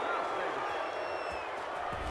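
Stadium crowd in the Madden NFL 22 football game reacting to a penalty call near the goal line: a steady, dense roar of many voices that holds at an even level throughout.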